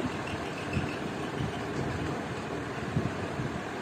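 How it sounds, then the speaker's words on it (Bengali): A blender whirs continuously as it purées ripe mango pieces into a smooth paste, giving a steady, dense motor roar at close range with no talking. "আবারও ব্লেন্ডিং জার কভার করে স্মুথ পেস্ট তৈরি করে নেব।"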